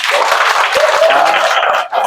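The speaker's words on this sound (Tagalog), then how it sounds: "O, pag sinabi kong pumalakpak." A classroom of children clapping their hands together on command, a loud, close burst of dense applause lasting about two seconds, with voices mixed in under it.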